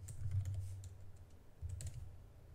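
Go code typed on a computer keyboard, two short bursts of soft, quick keystroke clicks with a brief pause between them, close but quiet, with no voices.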